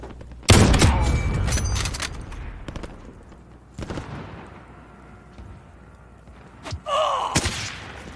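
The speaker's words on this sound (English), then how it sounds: "Okay, that guy got sniped." Sharp gunshots in the shooter Modern Warfare, a loud close crack at the start followed by scattered single shots and a later pair of reports, with quieter game ambience between them.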